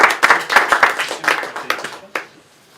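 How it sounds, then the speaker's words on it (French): Studio audience at a French quiz game show claps in a short burst of distinct hand claps, close and loud, tapering off into a few scattered claps and quiet. "On peut l'applaudir."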